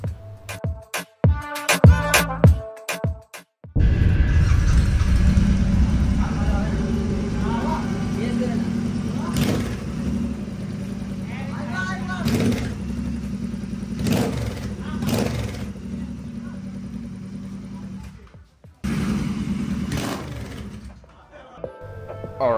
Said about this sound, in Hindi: इसका जो विदाउट मफलर साउंड है उसको पहले सुन लो